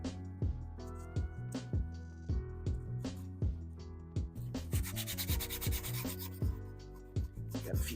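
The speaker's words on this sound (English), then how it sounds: "I don't even know why I'm wasting my time sanding it" A statue being sanded by hand: close, rhythmic rubbing strokes repeat every half second or so, turning into a denser, brighter scratchy rasp partway through, with no talking.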